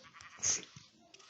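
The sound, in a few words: sheep bleating in the video game Minecraft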